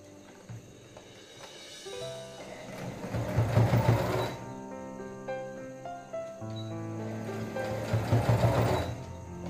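A sewing machine stitches a cloth hairband with elastic inside it in two rising and falling runs of rapid needle clatter, separated by a brief quieter pause.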